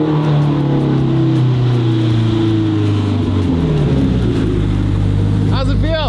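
A modified JDM car drives down a street, its engine giving a steady, loud, close drone that swells slightly near the end, with muffled voices faintly in the background.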